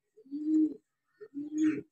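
Pigeons in a coop give two low, throaty coos close by, each lasting about half a second and separated by a short quiet gap.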